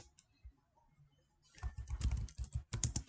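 Typing SQL code on a computer keyboard: after a quiet second and a half, a close, steady run of rapid key clicks with a brief pause before a final burst.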